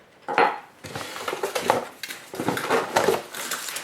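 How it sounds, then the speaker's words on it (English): Plastic 6-ounce yogurt maker cups and their lids clatter and clink as they are handled, a close run of knocks and light scrapes with no talking. "it comes with 7 6-ounce cups with lid"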